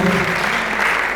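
A church congregation at a youth prayer service claps loudly in a short, dense burst of applause.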